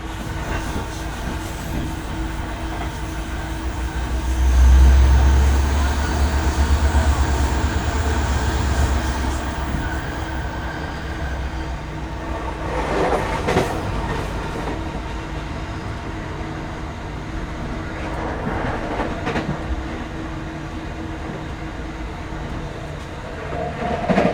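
A train runs through Pukekohe Station in Auckland without stopping, its rumble steady and close throughout, swelling loudest for a few seconds near the start before easing to a continuous rolling clatter.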